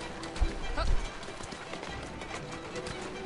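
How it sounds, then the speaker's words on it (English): Hooves of a horse pulling a cart clip-clop at a steady trot in a video game, close and fairly loud over ambient game noise, with a couple of heavier thuds early on. "Go faster, horsey! Gotta hijack a different cart."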